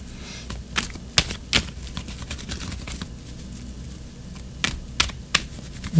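Tarot cards are shuffled by hand in a quiet room, with soft papery riffles and a few sharp slaps and flicks scattered irregularly. The sounds are close and there is no talking.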